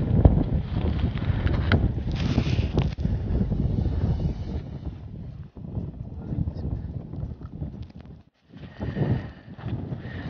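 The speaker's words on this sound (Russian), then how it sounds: "Обжигающий ветер." Strong, freezing Siberian wind buffets the microphone in heavy gusts on a winter fishing trip, with rumbling low noise, brief lulls and a short drop-out near the end.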